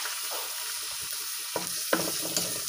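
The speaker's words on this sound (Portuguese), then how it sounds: "Vou colocar um pouco de cebola." Chopped onion sizzles in a film of oil in a pan on a wood-fired stove while rice is started. A steady, moderate fry runs throughout, with a couple of stirring scrapes and no talking.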